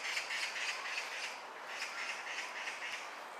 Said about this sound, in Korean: 까치 소리에.